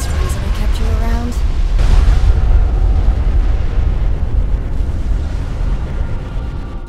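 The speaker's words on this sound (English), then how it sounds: "The Colossus is down! The bigger they are, the bigger their explosion." A giant Colossus robot blowing apart in Supreme Commander 2, a loud sustained rumbling explosion with deep roaring debris that slowly fades over several seconds, with a voice heard briefly at the start.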